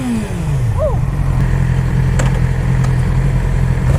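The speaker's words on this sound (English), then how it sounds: "But them revs though." A new Yamaha R6 sport motorcycle engine, still being broken in, drones and revs steadily up close, with a brief falling pitch sweep early on.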